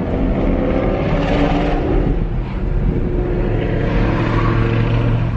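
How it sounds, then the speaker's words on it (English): A 2018 Toyota Tacoma pickup accelerates on a short stretch up to about 25 mph, its engine drone loud and steady throughout with a rising, throaty roar under throttle. "I actually have to put a decent amount of throttle to get this thing up to 25"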